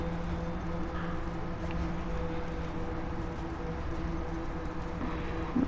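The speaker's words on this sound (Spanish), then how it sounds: "ponemos el caballo en una posición que se pueda saltar" A horse's hooves clip-clop in The Last of Us video game, a run of muffled rhythmic footfalls over a low steady game ambience, moderately close.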